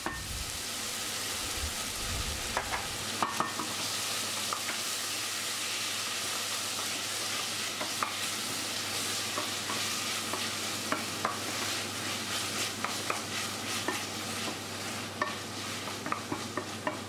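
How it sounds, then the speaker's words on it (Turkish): Chicken and vegetables with tomato paste sizzle and fry steadily in a pan, with occasional stirring clinks and scrapes, continuous and fairly close. "Kavurmaya devam ettim."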